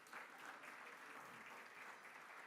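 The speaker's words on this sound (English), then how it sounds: "Give her a warm round of applause" An audience at an African Union high-level roundtable on malnutrition in Ethiopia applauds as President Sahle-Work is welcomed to the platform, a steady, dense wash of clapping that holds at an even level from start to finish.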